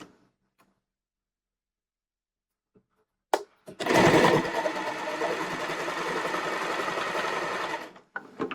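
Sewing machine stitching a folded-in pocket on a tight skirt, starting after a brief click and then running as a loud, steady motorized whir for about four seconds before stopping abruptly.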